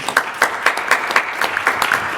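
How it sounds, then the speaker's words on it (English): Applause at a city council meeting for a school principal, brief and moderately loud, with light rhythmic clapping from a small room of people, heard alone. "Let's give her a round of applause"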